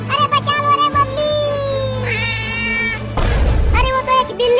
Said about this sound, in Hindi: अरे वो तो एक बिल्ली है